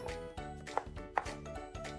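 A knife chops shallots on a cutting board in a home kitchen, a run of close, fairly quick taps with a couple of sharper cuts among them.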